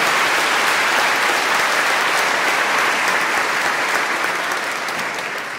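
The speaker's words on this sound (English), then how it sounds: "So a big round of applause for everybody." Loud, full applause from a large audience at a Buddhist nonprofit event, a thick continuous roar of clapping that tapers gently near the end.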